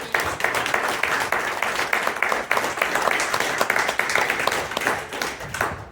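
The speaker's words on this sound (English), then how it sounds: "how about a round of applause for this great team?" A crowd gives a round of applause for a team at the close of an event, steady dense clapping that holds for several seconds at moderate volume.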